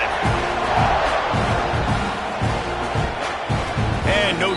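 Stadium crowd roar from a college football video game, ASU versus Texas A&M, a dense sustained cheer with rhythmic chanting swells, heard under steady broadcast-style commentary.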